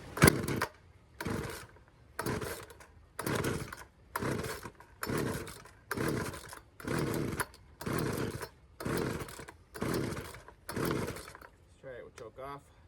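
An old Craftsman chainsaw is pull-started with the choke on: about ten rhythmic cranking pulls, each a short rasping burst, follow one another roughly every second. The engine does not catch, and a voice can be heard faintly at the end.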